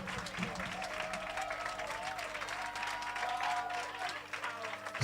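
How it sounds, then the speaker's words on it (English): Applause at a university women's conversation event with royal guests: a room full of people clapping steadily and continuously for about five seconds, moderately loud and even throughout. "Can I please have a big round of applause for Sis Thandi?"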